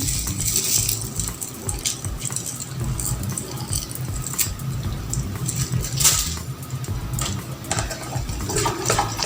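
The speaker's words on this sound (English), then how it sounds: "We'll be adding our hexapon to our sulfonic acid. They are both in liquid form." Liquid hexapon is poured into sulfonic acid while a homemade shampoo is prepared, giving a faint, steady trickle and splash with occasional light clinks of containers nearby.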